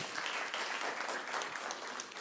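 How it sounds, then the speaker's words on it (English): Applause from a seminar audience at a research institute meeting, a steady quiet wash of clapping lasting about two seconds with no voices over it. "Shall we give a round of applause?"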